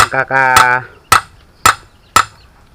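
Sharp metallic hammer strikes on a concrete nail ring out three times at an even pace, loud and close, following a brief sustained tone at the start.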